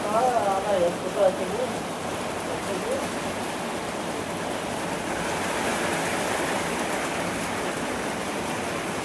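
Steady, dense rain pours continuously, a broad wash of patter with no gaps, close and fairly loud throughout.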